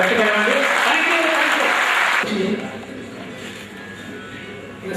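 Audience clapping at a retirement function, loud and sustained at first, then cutting off abruptly and leaving a quieter room where a voice begins to speak.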